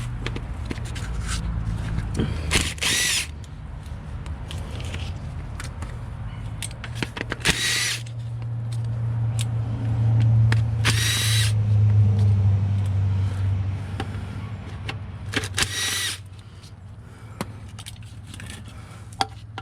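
Bolts on the CVT transmission of a 2013 Nissan Altima are backed out with a power drill in several short whirring bursts, separated by clinks and shuffling against a steady low hum.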